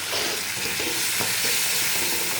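Cumin paste goes into a hot pan of hilsa fish curry, giving a steady, loud sizzle and frying hiss with soft stirring scrapes, close up and with no talk.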